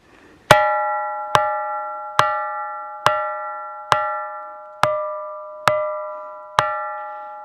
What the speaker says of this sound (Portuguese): É como se eu estivesse tocando dois sinos grandes e diferentes.